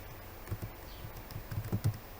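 Someone types code on a computer keyboard in a quiet room, a short run of soft, irregular key taps close by.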